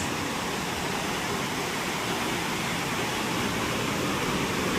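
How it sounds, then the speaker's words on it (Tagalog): Daranak Falls in the rainy season running strong, a dense, steady roar of heavy falling water that is loud and continuous with no voices over it. "Yan, malakas yung falls."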